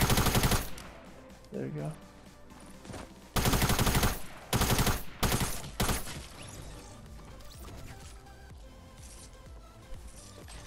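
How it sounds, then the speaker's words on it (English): Bursts of Fortnite shotgun gunfire come as loud, dense blasts clustered mid-clip amid game noise. Someone speaks briefly during the shooting. "He's one shot with the shotgun."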